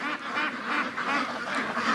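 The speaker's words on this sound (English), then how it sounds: "My ducks won't leave the yard." Free-range backyard ducks quack in a steady, overlapping chorus for two seconds, close by and continuous with no pauses or voices.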